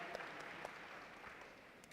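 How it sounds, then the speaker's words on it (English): Faint applause from the audience at a youth environmental forum for a panel, an even wash of distant clapping with a couple of sharper individual claps standing out. "One more time, ladies and gentlemen, a round of applause for our panel."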